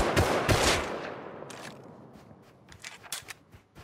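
Video-game gunfire, a quick burst of close, sharp shots at the start, followed by scattered fainter cracks and clicks, with no talking.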